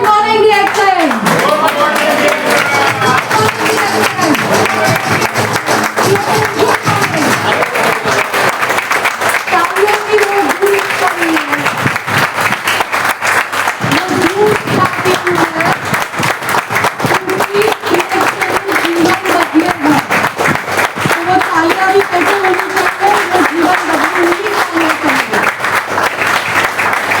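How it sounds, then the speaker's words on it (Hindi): A crowd at a women's day celebration claps together in loud, sustained applause that fills the room for a long stretch, with voices calling out over it. "खड़े होके मुझे चाहिए वो तालियां."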